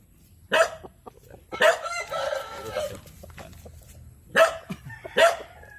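Loud rooster crows ring out close by, four separate calls spaced apart, with softer clucking and rustling between them.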